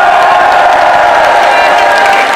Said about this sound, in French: vous avez raison d'applaudir